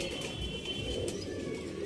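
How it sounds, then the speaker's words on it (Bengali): A male pigeon coos softly in a loft, faint low throaty calls set against quiet background noise, with no one speaking. "নর পায়রা"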